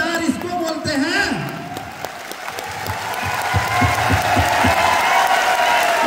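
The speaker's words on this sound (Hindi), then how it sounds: "ऐसे शख्सियत के लिए जोरदार तालियां होनी चाहिए।" Loud applause and some cheering from a large crowd at a stadium anniversary event rise and hold steady, with a voice briefly audible early on before the clapping swells.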